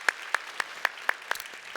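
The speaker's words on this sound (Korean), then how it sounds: "우리 하나님께 영광의 박수 올려드리겠습니다" A church congregation claps together in a steady, even rhythm, about four claps per second, moderately loud.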